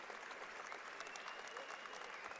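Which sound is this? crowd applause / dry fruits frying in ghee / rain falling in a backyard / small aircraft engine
crowd applause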